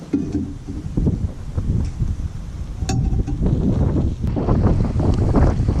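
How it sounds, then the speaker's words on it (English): Strong wind roars and buffets the microphone continuously, low and gusty, with no talking, outdoors while sausage cooks in a canteen cup. "Wind's blowing too hard."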